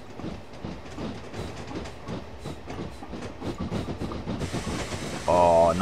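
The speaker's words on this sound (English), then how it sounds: "Oh, nice. Passenger train." A passenger train passes in Train Simulator 2016, its wheels clattering in a steady rhythm of rail clicks before a sustained whistle-like tone sounds near the end.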